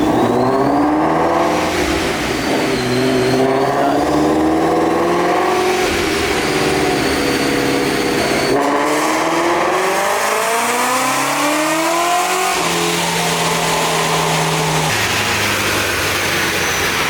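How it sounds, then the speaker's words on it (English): A supercharged Ford Mustang GT350 engine revs hard and climbs steadily through a long fourth-gear pull, its blower whine rising in pitch, briefly dropping between surges, loud and close throughout. "Alright guys, we're gonna do a 4th gear pull on it."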